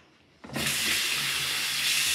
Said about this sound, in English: now let's wash my face